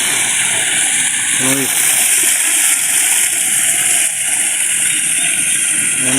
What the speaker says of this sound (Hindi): ये आबशार है जी।